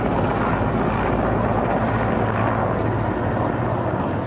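Aircraft-type drone flying overhead, a dense, steady roaring engine drone that stays loud and unbroken throughout, with no talk.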